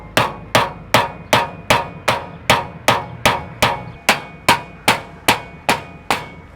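A hammer drives a big ring shank nail into wooden porch trim with about fifteen sharp, evenly spaced blows, loud and close, nothing else heard.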